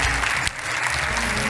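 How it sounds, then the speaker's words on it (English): A crowd at a business school graduation applauds the graduates, a thick, continuous wash of clapping from many hands, loud and sustained with no pause. "give all our graduates a hand clap"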